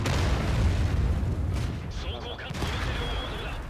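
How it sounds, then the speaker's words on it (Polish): Tank cannon fire in World of Tanks, a broad heavy boom with rumbling low end at the start, followed by game battle noise and softer bursts, with a voice talking over it. "Jeszcze jeden strzał."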